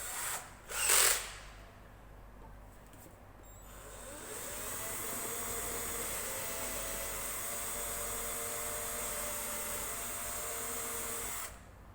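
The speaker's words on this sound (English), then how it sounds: "Right, so I'll now go up to a 3mm drill bit." A power drill with a 3mm bit whirs steadily for several seconds after a brief sharp noise, running at a constant pitch up close before stopping, while drilling a ukulele bridge.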